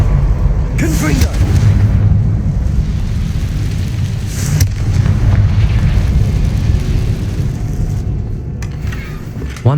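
A fire spell explodes in the Hogwarts Legacy video game, a loud continuous booming rumble with sharp bursts, sustained throughout under game effects.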